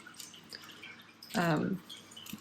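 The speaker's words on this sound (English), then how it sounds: "let the water run out a bit" Water drains from a plant pot filled with wet pumice, giving soft drips and trickles with a brief louder splashing gush in the middle, under light background noise.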